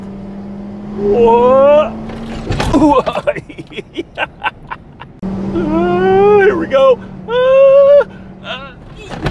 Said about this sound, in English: One of the fun things about this truck is you can hit speed bumps going fast.